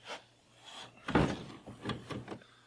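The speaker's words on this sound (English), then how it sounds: "So now I'm going to unscrew the backing plate off of the wire cap" Plastic rubbing and scraping as a backing plate is unscrewed from a kayak's through-hull wire cap, reached through the rear hatch; several short, close, soft grinding bursts with quiet gaps between them.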